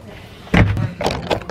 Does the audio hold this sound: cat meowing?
no